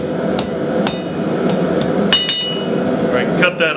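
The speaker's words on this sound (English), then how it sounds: "I'm gonna throw it in the forge and hammer this end down just a little" A blacksmith's hammer strikes the hot end of a forged steel trident fire poker on an anvil, giving sharp, loud, ringing metallic blows in an uneven rhythm, about seven hits in under four seconds.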